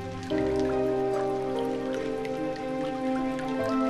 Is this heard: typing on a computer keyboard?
no